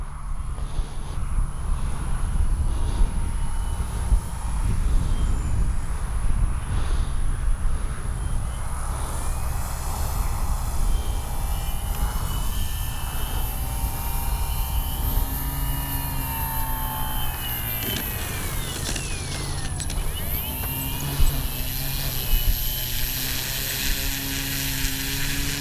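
An Avios Grand Tundra RC airplane flies in to land with flaps down, its electric motor whine droning steadily and shifting in pitch as it passes, loud and continuous throughout.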